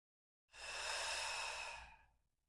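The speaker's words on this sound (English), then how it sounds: "Deep breath." One long, deep breath during a slow yoga flow, a single breathy exhale close to the mic that rises quickly, holds for over a second and trails off into silence.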